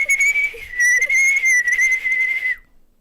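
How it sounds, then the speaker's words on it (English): A person whistles through their fingers: a loud, shrill, sustained tone with a few brief breaks, heard alone and cutting off sharply near the end. "He whistles through his fingers."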